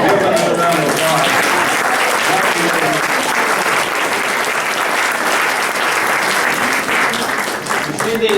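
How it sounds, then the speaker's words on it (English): A congregation at an Easter celebration service claps for performers, loud, dense applause sustained throughout with some crowd voices underneath. "Give them a round of applause."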